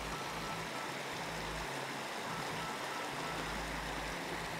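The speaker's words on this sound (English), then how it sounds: "The water's flowing pretty good." A stream flows steadily under cloudy skies in Mark Twain National Forest, a constant full rushing wash that stays even and close throughout, with no voices.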